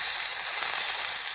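Grated garlic hitting hot oil with nigella seeds for a stuffed bitter gourd dish, a loud, dense, close sizzle that holds steady through the short moment with no voices.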